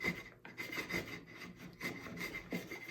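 A chisel pares wood in a mortise during a hand-tool build of a spring pole lathe, making soft, close scraping strokes in an uneven rhythm, with no talking.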